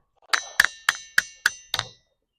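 A Jhalariya ringing stone at Kariyana is struck six times at an even pace, each blow giving a bright, metallic ring that decays quickly and rings alone, close by.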